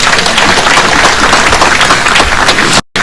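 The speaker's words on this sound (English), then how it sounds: "Let us give our Prime Cabinet Secretary a better clap." Loud, dense applause from an audience at a university graduation ceremony in Nairobi, clapping for a cabinet secretary; a close, continuous wash of clapping that cuts off abruptly near the end before briefly resuming.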